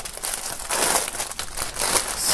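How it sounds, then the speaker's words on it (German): Plastic shrink wrap crinkles and crackles up close as items are pulled out of it one by one, a continuous rustling with louder bursts and no talking. "nachdem hier diverse Sachen noch in Folie eingeschweißt sind, werden wir die mal einzeln hier rausholen."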